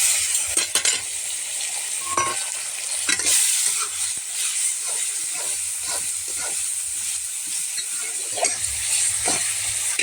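Tomatoes and onions frying together in a pan while being stirred, for Maggi noodles. A steady, loud sizzling hiss runs throughout, broken by repeated scraping strokes of the spoon.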